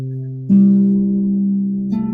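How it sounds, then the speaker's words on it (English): A harp plays a simple musical game: one low note rings out, followed by a second pluck near the end, both close and clear in a quiet room. "if you have a harp, so it sounds like this is just one game."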